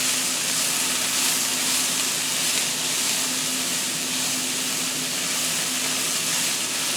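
Ground beef and onion fry in a pan in a home kitchen, giving a steady, even sizzle and hiss that holds at one level from start to finish, close and fairly loud, with no voices.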